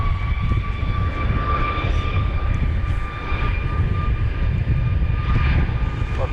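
A Southwest jet airliner taking off from runway 31 right at Dallas Love Field, a steady loud engine roar with a sustained tonal whine, heard from a distance without any talk over it.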